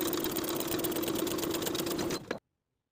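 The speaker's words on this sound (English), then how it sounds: "Sew from the dot back stitching to secure to the bottom of the facing with a 5/8 inch seam allowance" A sewing machine stitches a dress facing seam with back-stitching, running at a steady even whir for about two seconds before slowing and stopping abruptly into silence, close by.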